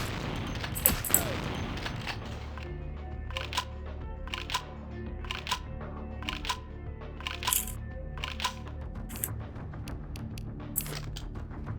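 Gunfire in the vampire RPG Vampire: The Masquerade – Bloodlines, a rapid string of sharp shots cracking out in bursts across the whole stretch, loud and close over low game ambience, with no talking.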